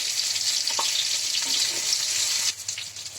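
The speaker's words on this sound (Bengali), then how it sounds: "এবার দিচ্ছি আমি মূলো, তারপরে দিচ্ছি আমি রাঙা আলু" Radish and sweet potato sizzle in fish oil in a pan for a spinach curry, a loud, steady, close frying hiss with a few knocks from a utensil, quieting slightly near the end.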